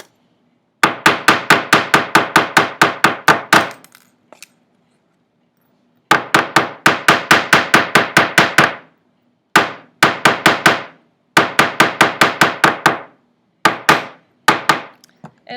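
Small hammer striking a metal jewelry clasp to add texture: rapid runs of sharp, bright taps at a steady even pace, broken by short pauses, close and crisp with no talk.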